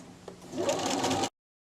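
A sewing machine stitches along the long curved edge of a double-sided apron in one steady burst of roughly a second, close and fairly loud, then stops abruptly into silence.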